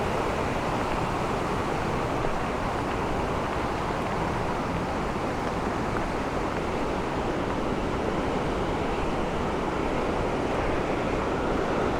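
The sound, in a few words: Pine Creek flowing water on a rainy hike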